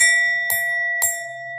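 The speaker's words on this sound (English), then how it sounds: "I'm gonna ring the bell." A small bell rung by hand, two bright clear strikes about half a second apart, each with a long sustained ringing tone, close and loud with no talk.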